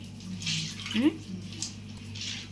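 Fish pieces are rinsed in water, producing soft splashing and sloshing in short bursts, fairly quiet and close, with faint talk in between.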